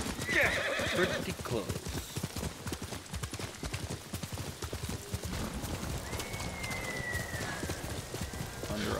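Horse hooves galloping in the video game Ghost of Tsushima, a fast rhythmic clip-clop under a man's speech, with a horse's whinny near the start and a faint whistling tone later.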